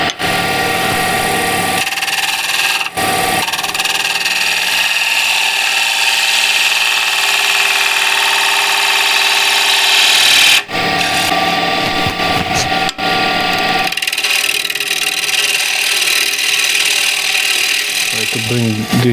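A spindle gouge cuts wood on a spinning woodturning lathe, giving a steady loud whirring, hissing drone with the motor running throughout and brief breaks where the tool lifts off, while a person talks over it.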